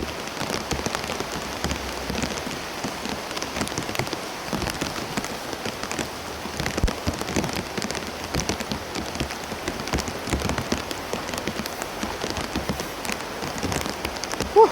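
Heavy rain pours steadily onto a hard surface, a dense continuous patter with scattered louder drops, no voices, throughout.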